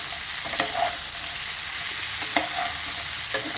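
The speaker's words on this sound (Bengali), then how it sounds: "সবজির সঙ্গে ভালো করে এটাকে ভেজে নিতে হবে, কষিয়ে নিতে হবে।" Vegetables fry and sauté in a pan with a steady close sizzle, while a few sharper scrapes and stirring clinks of a utensil against the pan come through at irregular intervals.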